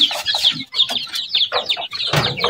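Several chickens cluck and chatter nearby, with young chicks around a month old being raised among them, giving short repeated calls in a busy, continuous flock sound.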